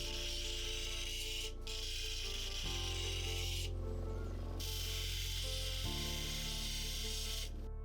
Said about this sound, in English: We're then onto the 1200 grit wheel, where the same again. We're removing those scratches and preparing it for that polish at the end.